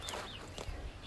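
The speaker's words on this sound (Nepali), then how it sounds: "कुखुराहरू।" Chickens cluck softly inside a coop at a farm, short faint bird calls heard at a distance over a low background hum.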